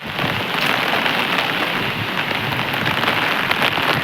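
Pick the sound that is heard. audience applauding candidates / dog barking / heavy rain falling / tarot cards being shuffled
heavy rain falling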